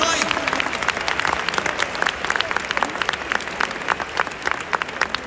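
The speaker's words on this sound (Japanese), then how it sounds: "今一度大きな拍手をお送りください" A large crowd in the Tokyo Dome applauds at a ceremony marking 150 years of baseball, held at a Giants–Hanshin game; a dense, sustained wall of clapping runs evenly throughout with no pauses.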